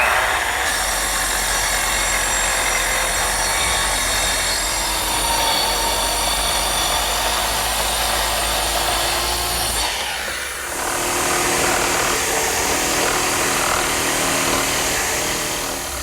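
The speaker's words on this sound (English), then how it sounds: "I'm using a straight edge clamp and my trim saw to cut the ends straight and square." A trim saw guided along a straight-edge clamp cuts the ends of a chestnut desk top, a loud continuous whine that dips briefly partway through before the cut resumes. No one speaks.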